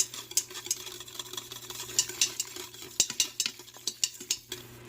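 Pepper and tomato sauce seasoned with salt and pepper is stirred in a pan on the stove, with a spoon clinking and scraping against the pan in quick, uneven strokes over a low hum, close and fairly quiet.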